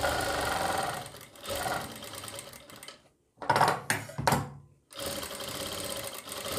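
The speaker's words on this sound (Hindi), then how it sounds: "ये सिलाई यहाँ पर पक्की करेंगे" Sewing machine stitching the seam of a churidar pajami, running in steady rapid bursts with a brief pause and two short stitch runs in the middle, loud and close with no talking.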